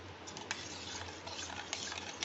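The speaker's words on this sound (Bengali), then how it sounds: "ভালো করে চিনিটা মিশিয়ে নিচ্ছি।" A spoon stirs sugar and agar agar powder together in a bowl, giving a steady, close scraping swish with a few brief clinks and no talking.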